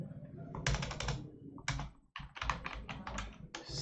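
Clusters of quick computer keyboard keystrokes while typing in an Excel spreadsheet, close and crisp, in bursts separated by brief pauses with faint background sound.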